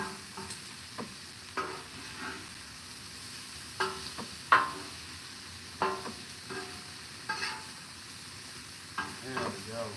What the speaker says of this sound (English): Now let's just kind of stir it up in that oil.